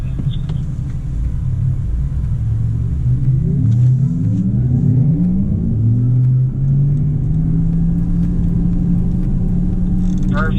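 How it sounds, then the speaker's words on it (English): A Porsche engine rumbles low and steady, rising gently in pitch as it pulls away slowly toward a chicane on a driving course, loud and close throughout. "start slow and angle the car towards the chicane."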